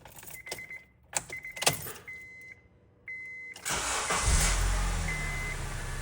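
A car engine cranks and catches during a starter test, preceded by several clicks and electronic beeps inside the vehicle, then a sudden rising roar that settles into a loud, close idle.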